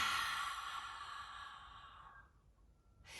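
A yoga instructor breathes out slowly and audibly through the mouth, one long airy exhale that fades over about three seconds during a breathing exercise in an abs and glutes class.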